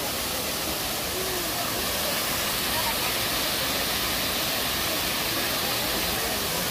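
Wonang Falls in Jeju pours down in a dense, close, unbroken roar of rushing water that holds steady throughout and masks any other sound.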